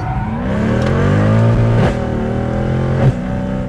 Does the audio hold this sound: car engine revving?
yes